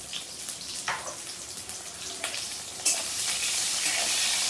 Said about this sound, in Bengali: আমি বেগুনটাকে একটু ভেজে নেব